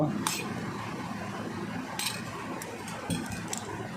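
Chili powder, turmeric and mustard oil are mixed in a bowl for hilsa pulao, with a few light spoon clinks and scrapes against the dish over a soft, steady background hum.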